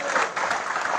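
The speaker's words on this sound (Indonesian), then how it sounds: "Tepuk tangan untuk beliau." A brief burst of crowd applause, dense clapping from many hands at a steady level.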